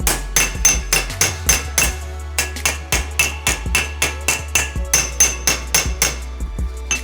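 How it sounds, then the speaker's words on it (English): Rapid, steady hammer blows shaping a sheet metal repair panel, ringing and sharp, repeating in a fast rhythm for several seconds over a low constant hum. "if we then take our hammer"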